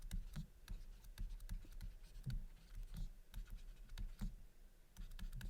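Quick scratchy writing strokes on a board or paper, repeated in short irregular bursts; faint and close, with no talking.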